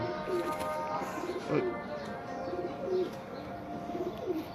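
Breeder flying pigeons coo repeatedly in soft, rolling phrases, several birds together against a steady background hum.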